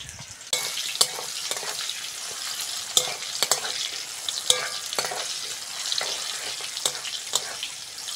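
Bitter gourd frying in hot oil in a pan, a loud, steady close-up sizzle broken by frequent sharp crackles and utensil scrapes from stirring.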